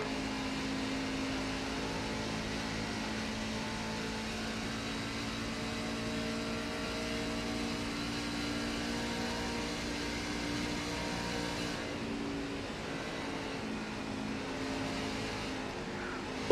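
Onboard sound of a NASCAR truck engine racing at Atlanta Motor Speedway, a steady sustained drone with a held pitch and a slight shift partway through, loud and close throughout with no talking.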